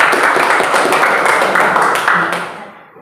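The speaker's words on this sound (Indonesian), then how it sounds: "Kita beri tepuk tangan untuk kelompok 1." Classroom applause for a student group, a dense burst of many hands clapping loudly and close, holding steady before fading out toward the end.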